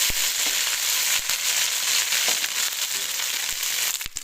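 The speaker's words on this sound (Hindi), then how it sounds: "अब हम डालेंगे अदरक लहसुन का पेस्ट।" Ginger garlic paste dropped into golden-brown fried onions for beef degi pulao, giving a loud continuous hissing sizzle with sharp crackles and spatters throughout, no talking.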